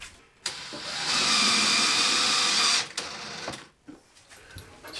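A power drill drives cabinet screws during a bathroom mirror cabinet build, one sustained whirring burst of about two seconds, fairly close and loud, followed by brief shorter clicks and handling noise.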